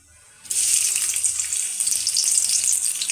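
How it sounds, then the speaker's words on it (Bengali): Onions dropped into hot oil in a pan, for a boal fish dish: near silence, then a sudden loud sizzle that bursts in and keeps crackling steadily and close. "পরিমাণ মতো তেল দিয়ে দিলাম এরপরে পেঁয়াজ দিয়ে দিলাম"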